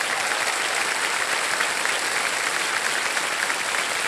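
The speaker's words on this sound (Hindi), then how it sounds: "ताली बजा दीजिए" Studio audience on a Hindi television quiz show bursts into steady, dense applause, loud and sustained throughout with no pauses and no voices over it.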